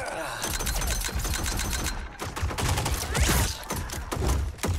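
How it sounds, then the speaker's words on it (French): Rapid bursts of infinite-ammo gunfire in the Mortal Kombat 11 story mode, loud and dense, with cracking shots and thuds layered over each other in a sustained fusillade. "Ces flingues à balles infinies, c'est quand même pratique."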